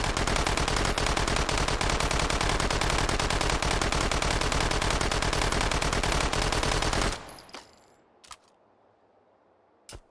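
An Uzi with a 72-round magazine fires full auto in the VR shooter Hot Dogs, Horseshoes & Hand Grenades: a loud, dense, unbroken burst of rapid shots for about seven seconds, then a few scattered metallic clicks and handling noises.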